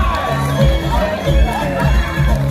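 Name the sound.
crowd applause and cheering for Steve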